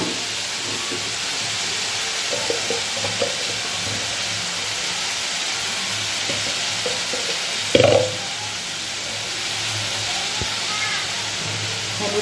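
Ridge gourd and pumpkin cook in a pan for a vegetarian dish, giving a steady loud sizzling hiss throughout. A single sharp clattering thump lands partway through, followed by continued frying.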